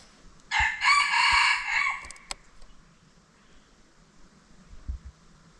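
A rooster gives a single clear cock-a-doodle-doo lasting about a second and a half. A few soft knocks follow in otherwise quiet surroundings.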